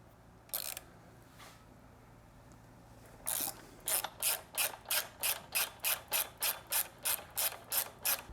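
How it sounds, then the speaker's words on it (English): A 12mm wrench ratchets on the foot peg mount bolts of a Triumph Street Twin motorcycle, a couple of isolated clicks followed by a steady run of about a dozen evenly spaced ratcheting strokes, close and crisp. "Next we want to remove the foot peg mount and bushing using a 12mm wrench and a"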